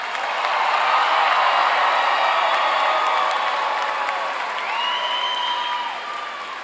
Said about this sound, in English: Please join me in a round of applause for this awesome class of